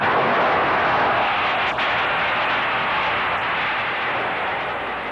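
Aerojet General rocket launch in Florida, a steady, loud, continuous roar that holds at full strength throughout with no talking.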